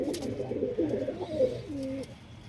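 Domestic pigeons, including a black-tailed bird and a newly paired couple in a loft, coo in low rolling throaty phrases, close and continuous.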